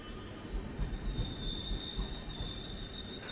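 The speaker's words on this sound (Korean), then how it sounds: "아침 7시 10분 열차를 탄다." A passenger train running from Vienna to Prague on a snowy morning rumbles steadily with low wheel roar and a faint high squeal, heard from inside the carriage with no talk.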